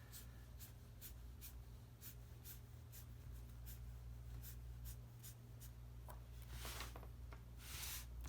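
Marker sketching on paper to shade an ellipsoid, with repeated quick squeaky strokes in a steady rhythm, close and fairly quiet, growing into longer, denser scribbling strokes toward the end.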